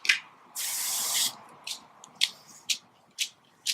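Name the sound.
spray paint can spraying silver paint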